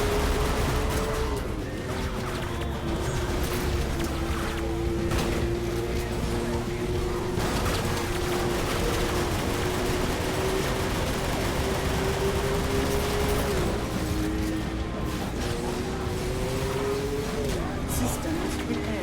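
Continuous explosions and gunfire in the car combat game Full Auto 2: Battlelines on PS3, a dense, loud barrage over a droning engine tone, with a voice talking over it.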